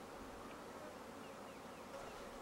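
A honeybee swarm buzzing as a steady, dense drone, faint and constant throughout with no speech.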